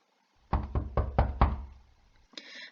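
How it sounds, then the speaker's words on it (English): Five hard, loud knocks strike a door in a quick, even rhythm, each a sharp thud with a short ring, followed by a brief softer rattling sound. "to make the sound louder, you need to knock the door harder"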